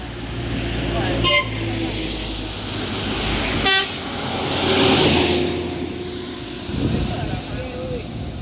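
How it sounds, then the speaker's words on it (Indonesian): A tour bus on an Indonesian roadside spot passes with steady engine roar, giving a couple of short toots of its horn, the engine noise swelling and fading as it goes by. "Sepertinya ini bus pariwisata ya."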